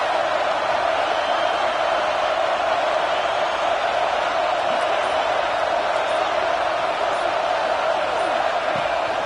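A football stadium crowd roars as a steady, loud wash of noise that does not let up, and a commentator's voice is heard faintly over it.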